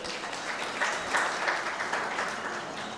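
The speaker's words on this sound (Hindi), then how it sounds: "तालियां बजती रहनी चाहिए।" An audience claps steadily at an award ceremony in India, a dense, even wash of applause that holds across the whole stretch with no voices over it.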